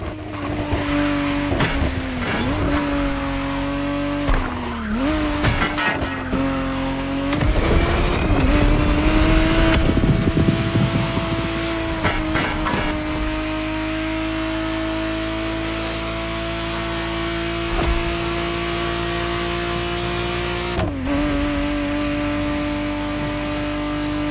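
A 1991 Ferrari Testarossa 512 TR in The Crew Motorfest howls at high revs, with sharp gear-change dips, bursts of tire squeal and skidding, and a sustained loud engine note close up.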